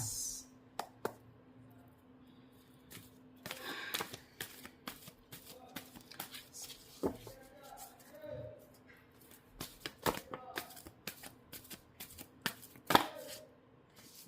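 Oracle cards are shuffled for a reading, giving soft, close riffles and taps in scattered bursts at a low level, with a voice speaking faintly now and then.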